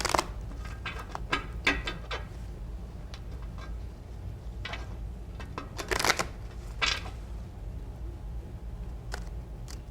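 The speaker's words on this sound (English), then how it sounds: "Okay, Herman, you need to shuffle these cards 3 or 4 times." Tarot cards riffled and mixed by hand at a reading table, giving bursts of papery flicks and slaps at irregular intervals, fairly close and moderately quiet against a low steady room hum.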